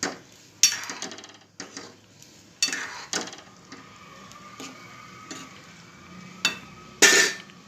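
A spoon stirs black-masala curry in a pan over a gas flame, giving irregular scraping knocks against the metal over a soft, steady sizzle, with a louder clatter near the end and no talking.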